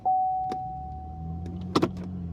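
A car being moved: a faint electric whine hums steadily at first, then a low engine drone sets in, with a few sharp clicks and a double knock of a door or handle close by.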